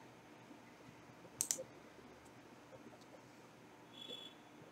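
A computer mouse clicks to open a file in Notepad, a quick pair of sharp, close clicks near the middle over faint room hiss, followed later by a brief soft tone.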